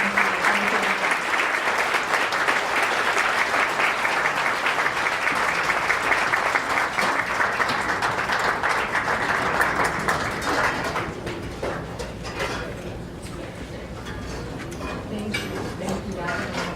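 A gala audience gives a long round of applause for an honoree at a scholarship foundation event, dense and loud for about ten seconds before thinning into scattered claps and room murmur.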